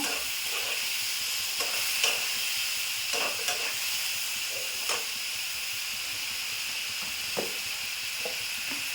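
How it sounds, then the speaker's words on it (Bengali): Ginger, green chili paste and ground cumin, coriander and chili frying in a pan, a steady bright sizzling hiss with occasional soft stirring scrapes and taps, close and continuous without speech. "2 চামচ দিয়েছি আদা আর কাঁচা লঙ্কা, জিরে গুঁড়ো, ধনে গুঁড়ো আর লঙ্কা গুঁড়ো। এবার এটাকে কষে নেব।"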